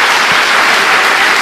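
A church congregation claps in praise of Jesus during an Easter service, a dense, steady burst of applause filling the room, close and loud throughout.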